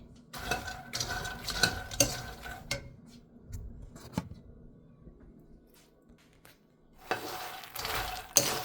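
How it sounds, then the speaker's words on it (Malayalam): Phool makhana lotus seeds dry roasting in a pan, with bursts of rattling and scraping as the seeds are stirred, quieter stretches of soft sizzle between. "രണ്ടാമത്തെ പാക്കറ്റും പൊട്ടിച്ച് വറക്കാൻ പോവാണേ"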